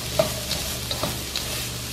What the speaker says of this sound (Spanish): Y vamos a freír nuestra zanahoria. Nuestra cebolla de unos 3 a 4 minutos.